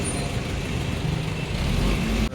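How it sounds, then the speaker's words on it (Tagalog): Dense road traffic in Metro Manila hums steadily nearby, with engines idling and rumbling, a vehicle briefly revving, and an abrupt clunk near the end. "Traffic."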